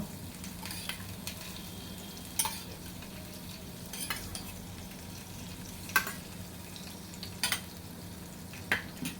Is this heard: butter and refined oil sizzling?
yes